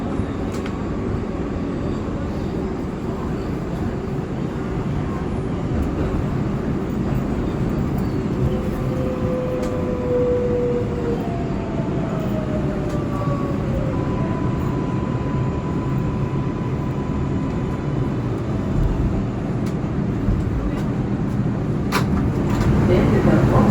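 Continuous rumble of an R142A subway car on the 6 local line in New York, a loud steady roar of wheels on rails with faint squeals and brief clanks riding over the din.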